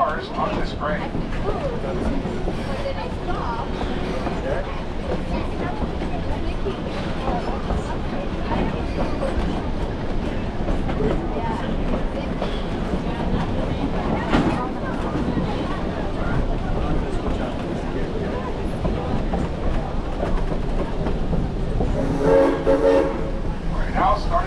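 A Shay steam locomotive hauls a loaded logging train up a forest grade. It makes a steady, dense rumble that runs the whole way under continuous talk, with a brief brighter burst near the end.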